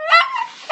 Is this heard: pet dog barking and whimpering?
yes